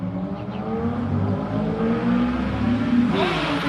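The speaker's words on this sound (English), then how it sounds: "There's like 3 motorcycles. People are just running up and down the street." Several motorcycles on a street in the Philippines run up and down past the listener, a loud continuous engine drone with rising revs, near and unbroken throughout, no talking.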